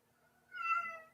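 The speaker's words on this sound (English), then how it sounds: "I said I hear a kitty cat." A cat lets out a single clear meow, rising and then trailing off, at moderate distance over quiet background hum.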